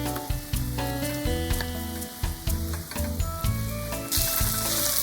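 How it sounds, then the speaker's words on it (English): Pork and onions sizzle in hot oil in a pot while being stir fried, a steady loud crackle broken by repeated scraping stir strokes, with a brighter hiss swelling near the end. "When the pork is cooked, add the onions and stir them."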